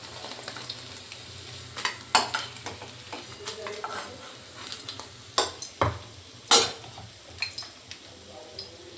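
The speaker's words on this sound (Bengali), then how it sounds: "এদিকে আমার পনিরগুলোও ভাজা হয়ে যাচ্ছে" Paneer cubes fry in oil in a pan for chilli paneer, with a soft steady sizzle broken by several sharp scraping and clinking spatula strokes against the pan.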